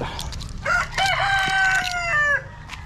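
A rooster crows once, close and loud, a long drawn-out call that rises then holds before breaking off, with faint clucking around it.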